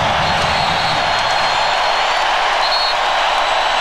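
A basketball arena crowd at the 1996 NBA Finals roaring loudly, a dense, sustained wall of cheering and noise that stays at full intensity throughout.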